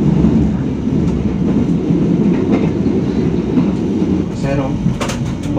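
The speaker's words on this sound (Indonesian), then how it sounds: "KA Gaya Baru Malam Selatan kembali diberangkatkan dari Stasiun Gombong Kabupaten Kebumen jam 17:25" The Gaya Baru Malam Selatan passenger train pulling out of Gombong station in Kebumen, a continuous rolling rumble with wheel clatter, heard from on board with voices talking faintly underneath.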